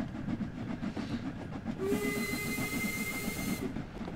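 A steam train passing in Train Sim World 2: a rhythmic chuffing under a sustained steam whistle blast lasting almost two seconds, with a hiss of steam, loud and close.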